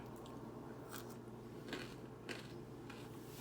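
Cucumber dipped in miso being bitten and chewed up close: a few soft, crisp crunches spread over a few seconds against a quiet room, with no talking.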